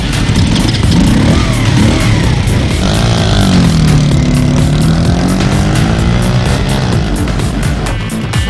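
A MagPower R-Stunt 50cc moped is ridden, its small engine a loud constant buzzing drone with shifting revs throughout, heavy wind rush underneath and no talking.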